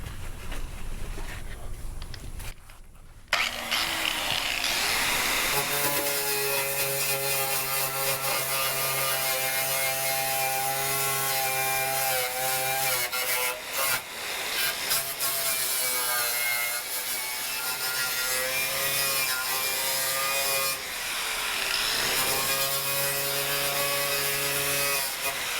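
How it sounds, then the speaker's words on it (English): An angle grinder works on rusted car body metal, a loud, sustained whining grind with pitch shifts as pressure changes, briefly easing off around the middle before resuming. "I could just cut it out, but we're gonna use this angle grinder."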